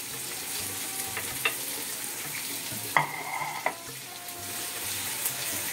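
Garlic sizzling and frying in a pot for a Veracruz-style fish and shrimp soup, a steady close crackle with a few brief utensil clinks and stirring knocks, no talk.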